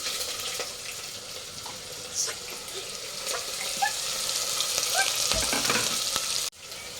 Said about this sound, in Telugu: ఇక్కడ ఆనియన్ ఇంకా చిల్లీ వేసుకుంటున్నాను